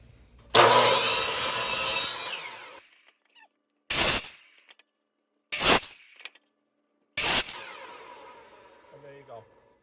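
A hand saw cuts a bevel in a wooden board for a carpenter bee trap, with one long rasping stroke burst followed by three short, sharp cutting strokes, loud and close with silence between them.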